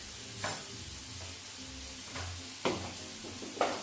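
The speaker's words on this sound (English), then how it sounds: "These are starting to fry nicely." Food frying in a pan makes a soft, steady sizzle, broken by a few scraping stirs and taps of a utensil at intervals.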